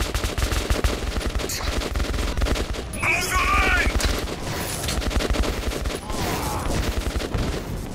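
Rapid automatic gunfire in Metro 2033 Redux, bursts of shots rattling densely and loudly throughout, with a brief sharper burst near the middle and a voice talking over the shooting.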